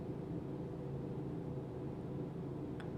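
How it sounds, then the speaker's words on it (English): Loud construction work going on outside, a steady broadband rumble and drone with low mechanical hum filling the background throughout, plus a faint brief clatter near the end. "If you can hear wild construction noises outside again."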